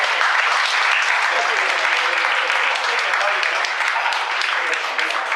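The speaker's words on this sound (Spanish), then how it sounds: "Un aplauso para este actor de primera." Sustained applause from a church audience for an actor, a dense, steady wash of clapping hands that holds evenly loud throughout.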